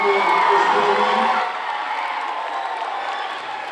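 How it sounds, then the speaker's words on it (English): An audience at a school anti-bullying presentation cheers, whoops and applauds loudly, a dense crowd roar with children's shouts that eases slightly partway through but keeps going to the end. "let's give another round of applause to Mr. Garnish for everything that he did for this program"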